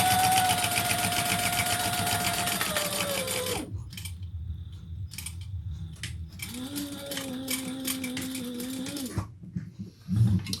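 A sewing machine stitches a bucket bag seam in two bursts of rapid, whirring stitching, separated by a short pause and ending with a few small clicks, close and alone.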